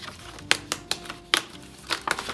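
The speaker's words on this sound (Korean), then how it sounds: "요 블록을 한번 뜯어볼게요" A block piece is torn off a sheet in a few quick, crisp ripping bursts, spaced irregularly and heard close up in a quiet room.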